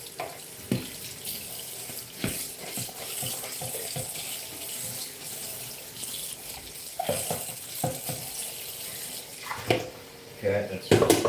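Hot tap water runs into a kitchen sink while dishes are rinsed, a steady splashing stream broken by clinks and shifting sprays as items pass under it.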